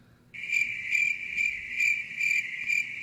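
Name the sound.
crickets chirping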